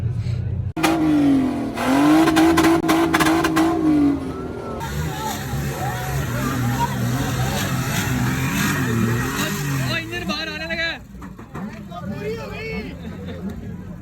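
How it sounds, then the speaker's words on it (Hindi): Toyota Supra at a mall auto show revs hard, its engine whining up and down, then settles into a rumbling idle with crackling exhaust over a busy crowd and talk. "ये जी फुल टाइम धमाके मारने वाली गाड़ी है जी"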